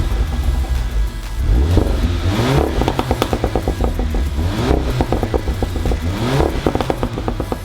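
A remapped VW Golf 7 GTI with an enhanced exhaust revs hard, its loud engine note rising and falling with repeated crackling, popping overrun bursts as the throttle lifts.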